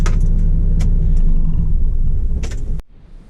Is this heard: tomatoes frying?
no